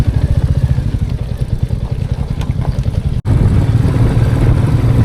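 Rental motorbikes labour along a rough, broken mountain road toward Pangong, their engines making a loud, continuous low throbbing rumble with rattling, and a brief dropout partway through.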